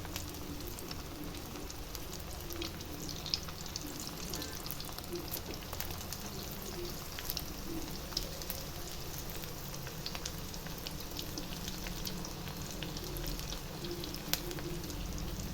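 Banana flower balls fry gently in oil with a continuous soft crackling sizzle and scattered pops, heard close and fairly quiet for the whole stretch, with no talking.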